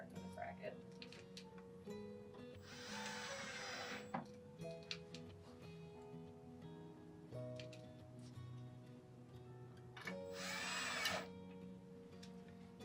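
A fastener is driven into a window shade bracket during an inside-mount side-control shade installation, with two bursts of whirring power-driver noise and faint clicks and handling between them, quiet and close.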